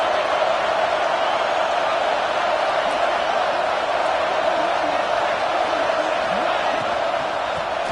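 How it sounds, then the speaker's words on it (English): A dense, steady roar from a football stadium crowd at a USC at Florida game, urging on the defense before a red zone stop; the sound is loud and sustained, with no clear peaks, and a broadcaster's voice sits faintly in the mix. "And here comes the noise. This crowd is trying to inspire this defense"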